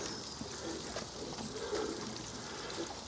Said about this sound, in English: that's the full flow through the pump now. I dare say you can hear that.